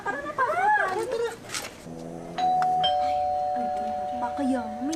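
A two-tone doorbell chime rings once, its tones lingering and sustained, following a stretch of people talking nearby.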